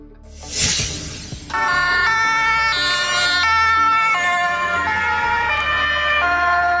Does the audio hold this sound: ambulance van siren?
yes